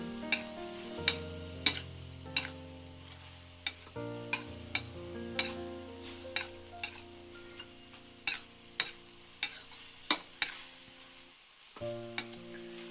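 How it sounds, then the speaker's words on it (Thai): Holy basil stirred into stir-fried duck skin in a hot pan, with a steady sizzle under repeated sharp clacks of a utensil scraping and tapping the pan, loud and close. "แล้วก็มาเติมกะเพรา กะเพราลงไป สุดท้ายคนคน"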